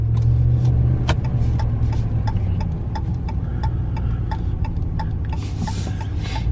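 A 2015 Dodge Ram Lonestar truck on a drive, with a steady low road and engine rumble and a regular ticking running through it from start to finish.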